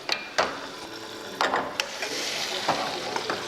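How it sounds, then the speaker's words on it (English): Quiet sizzling from chicken breast in a hot pan, a soft crackling hiss with a few sharp pops and clicks. "You hear the little sizzle?"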